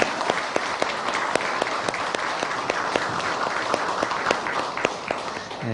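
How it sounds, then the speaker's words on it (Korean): A church congregation gives the choir a round of applause, dense steady clapping from many hands filling the sanctuary for several seconds with no voices over it. "우리 성가대에게 다시 한번 격려의 박수 하겠습니다."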